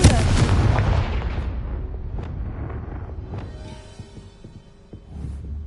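A Confringo fire spell blasts in Hogwarts Legacy, a loud booming burst that rumbles and decays over several seconds, followed by a few fainter crackling impacts and a low hum.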